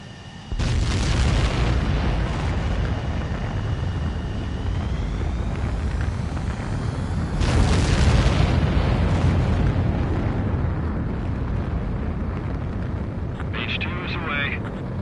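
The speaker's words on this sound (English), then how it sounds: "begin takeoff sequence. You're cleared for launch." Fighter jet in the Ace Combat video game roaring loudly through a sustained takeoff, with a rising whine and a surge of engine thrust midway, continuous throughout.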